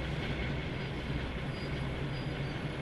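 A heritage train on the West Somerset Railway in the video game Train Sim World 2, a low, steady rumble of wheels and carriages heard from inside the cab, quiet and continuous with no talk.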